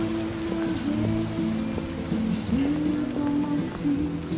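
Steady rain falling in the Detroit Become Human video game, a dense continuous patter close by, with a low tonal drone and faint game sounds underneath.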